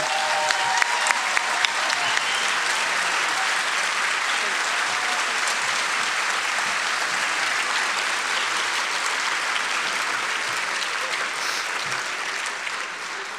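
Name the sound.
audience applause at awards banquet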